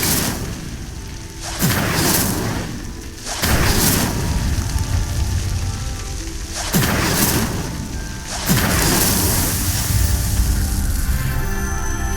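An Incendio fire spell setting a pyre ablaze in the wizarding game Hogwarts Legacy, four loud whooshing bursts of flame, each flaring suddenly and then roaring on for a second or two, close and forceful.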